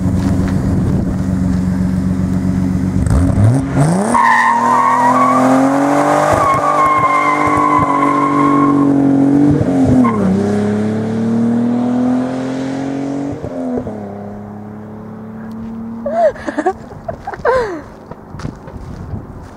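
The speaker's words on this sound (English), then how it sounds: "I'm gonna do a fat burnout" A Datsun 280ZX running Megasquirt engine tuning does a burnout, its engine revving hard while the tires squeal loudly for several seconds before the revs drop and a few quieter bursts follow.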